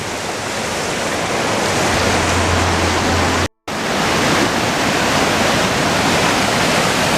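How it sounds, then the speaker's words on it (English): Nantahala River rushing steadily along a North Carolina Appalachian Trail hike, a loud, continuous broadband wash of flowing water with one brief dropout midway. "Oh, here's the river."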